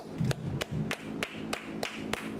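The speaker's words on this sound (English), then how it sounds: "Alright, clap it up." Single hand claps ring out at a slow, even beat, about seven sharp snaps spaced roughly a third of a second apart, close and fairly quiet against a low background murmur.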